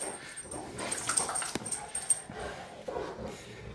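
A dog whimpers softly indoors in a series of faint, high whines and small yips, with a few brief thumps and rustles in a quiet room.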